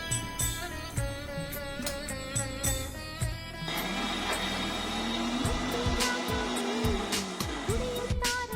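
A mixer grinder whirs as it coarsely grinds radish chutney ingredients: green chillies, curry leaves, tamarind, salt and a little water. The loud motor hum shifts pitch partway through and settles into a rougher, steady grinding.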